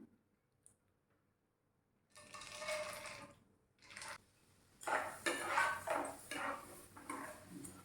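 Chickpea dal is stirred and fried over low heat in a pan for a homemade crispy namkeen mixture, giving bursts of scraping, rattling clatter with short pauses between them, close and fairly loud.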